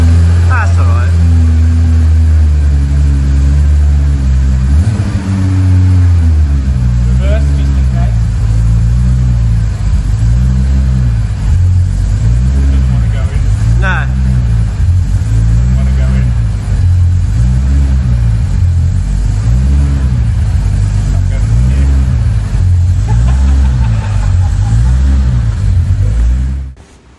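An air-cooled Porsche 911 964 Turbo engine firing up and settling into a loud, close idle with a rhythmic pulsing throb, a mechanical clatter, and voices over it.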